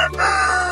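Native free-range chickens, including Rhode Island Reds, crow and cluck close by over a steady low hum, one continuous burst of farmyard calling.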